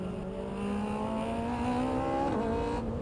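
Ariel Atom V8, a 475-horsepower car, runs at full throttle with a loud, steady engine howl whose pitch climbs continuously, dips briefly at a gear change near the end, then carries on, with no talk.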